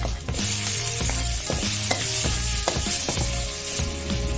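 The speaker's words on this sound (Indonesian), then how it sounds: "kita kasih minyak sedikit aja untuk menggoreng bawangnya" Steady sizzling and crackling of onions frying in a little oil, with a constant low hum and occasional clicks of stirring.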